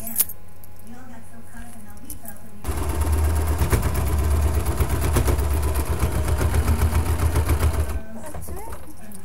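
A sewing machine stitches across corset tank straps in one sustained, loud, close run of rapid needle chatter lasting several seconds, framed by quieter handling noise before and after.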